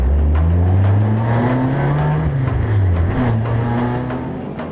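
GT race cars sit on the starting grid, engines rumbling loud and steady with rising and falling revs as the field begins to roll, close by with no talk.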